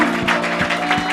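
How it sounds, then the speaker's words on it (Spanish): A church congregation claps during a worship service, a short burst of rhythmic, even hand claps at a steady beat with a faint sustained tone underneath. "Dale ese aplauso al Señor amado."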